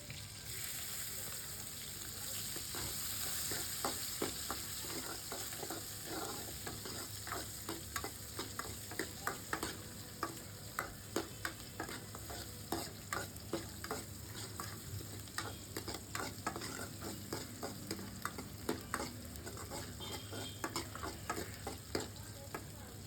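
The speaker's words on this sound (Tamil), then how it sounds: "வதக்கிட்டு நான் ஒரு கட் பண்ண பெரிய வெங்காயமும் வச்சுருக்கேன். அதையும் நான் இது கூடயே சேர்த்து நல்லா வதக்கிக்கிறேன்." Large cut onions sauté in a pan with a soft, continuous sizzle. A spoon stirs them, making regular, fairly quiet clicks and scrapes that come more often as the stirring goes on.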